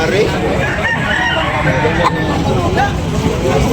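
Bullstag roosters crow and cluck amid dense crowd babble and background noise at a busy poultry sale in Tabunok, Talisay, with steady chatter throughout.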